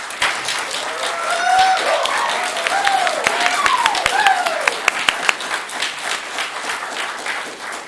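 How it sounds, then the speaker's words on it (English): A round of applause from an audience for student filmmakers at a horror film screening Q&A, steady clapping with a few sharp individual claps standing out and faint voices in the crowd. "So can we give another little round of applause?"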